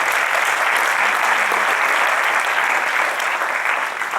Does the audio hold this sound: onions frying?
no